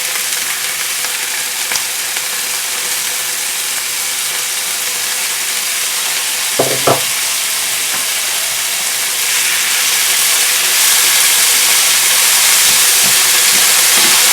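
Boiled banana flower frying in hot oil with cumin gives a steady, loud sizzle and hiss throughout, growing a little stronger toward the end, with a brief clatter midway and no talking.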